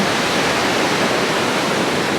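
Ocean waves at Pismo Beach produce a steady, dense broadband roar of surf, continuous and fairly loud with no distinct breaks or voices.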